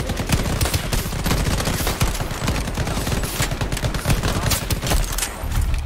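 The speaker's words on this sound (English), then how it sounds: "fired plenty of rounds into the guy" Loud, continuous automatic gunfire from the video game Shatterline, with rapid overlapping shots forming a dense, unbroken barrage throughout.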